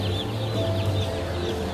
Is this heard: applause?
no